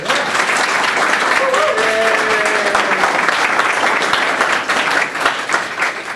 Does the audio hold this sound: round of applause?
yes